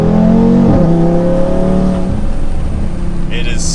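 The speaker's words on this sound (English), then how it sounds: "You get the turbo noise," An Audi RS3 engine with full exhaust revs loudly with a turbo whine, holding a steady drone that fades slightly, then a brief high hiss near the end; a voice talks underneath.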